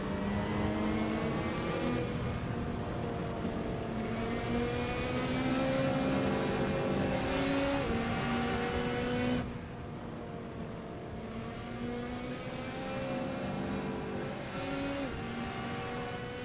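A Vision concept car in Assetto Corsa drives continuously, its engine holding a steady, layered harmonic drone that rises and shifts with gear changes and revs, loud and close throughout with no talking.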